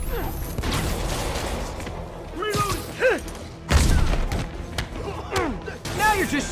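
Gunfire in Marvel's Spider-Man Remastered: heavy bursts and booming impacts break out amid shouting voices, with a loud crash-like blast near the middle.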